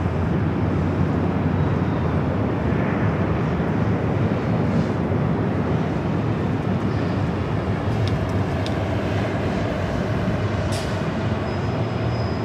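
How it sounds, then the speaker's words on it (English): A Boeing 737-700 jet at LAX gives a loud, continuous broadband engine roar that holds steady throughout, with faint radio chatter underneath and no other speech. "Getting this flight heading to Denver, 737-700."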